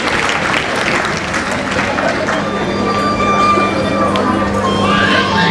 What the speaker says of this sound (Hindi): जोरदार तालियां बजाए उपेंद्र जी के लिए